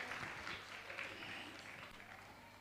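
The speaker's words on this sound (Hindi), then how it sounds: "आपकी तालियां उन तक पहुंचे, उनका अभिनंदन करें।" Audience applause at a Jain religious gathering, a steady wash of many hands clapping that holds evenly for a few seconds and fades slightly toward the end.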